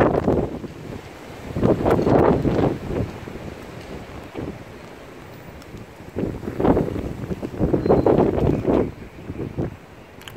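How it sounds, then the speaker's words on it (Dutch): Strong gusty wind buffets the microphone outdoors on a stormy day in an open field, roaring in waves of rumbling bursts with quieter lulls between. "ik weet dat het waait. Het waait, waait, waait."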